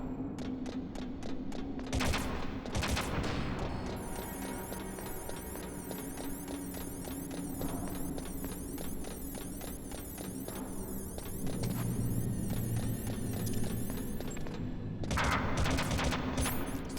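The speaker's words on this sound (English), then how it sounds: "Stop shooting me!" Rapid gunfire from enemy soldiers in Metal Gear Solid fills the whole stretch, dense bursts of automatic shots and scattered single cracks rattling on without pause over a steady game soundtrack.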